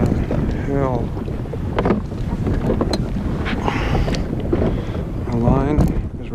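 Strong wind buffets a small fishing boat and the microphone in heavy, gusting rumbles, with a voice breaking in briefly over the roar.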